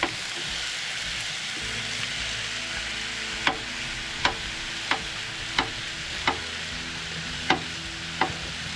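Ground turkey browns in a pan over high heat with a loud, continuous sizzle. A sharp spatula tap lands roughly every second as the meat is broken up and stirred.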